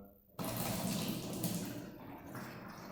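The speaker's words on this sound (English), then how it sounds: "what I tend to do when I first get a bottle is I just pour a pint" Beer pours from a bottle into a pint glass, a sudden steady rush of liquid starting abruptly and continuing at an even level, close by, with no talking.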